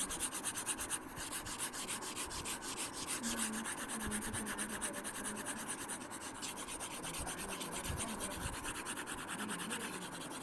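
Writing is rubbed off a board with quick repeated back-and-forth scrubbing strokes, a close, dry rasping that runs continuously throughout, with no voices.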